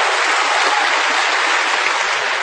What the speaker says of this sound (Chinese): 可以鼓掌了。